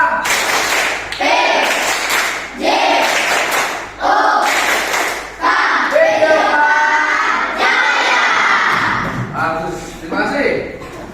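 A class of students in a PE (PJOK) lesson performs a clapping chant, voices calling out together in rhythm with bursts of sharp group claps, loud and close throughout.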